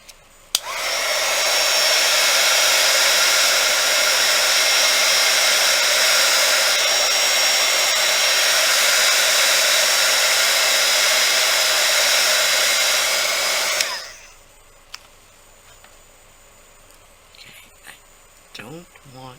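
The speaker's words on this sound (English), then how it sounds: "Heat gun again." Heat gun blowing on polymer clay: a loud, steady close whoosh of hot air runs for about thirteen seconds, then cuts off, leaving faint handling clicks.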